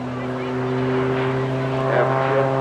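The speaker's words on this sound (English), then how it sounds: "Here's the jet engine coming into play again at the top of that roof." Jet-assisted Pitts S2S aerobatic biplane performing at an airshow, a steady droning engine roar with a strong low hum, mixed with crowd or commentary noise.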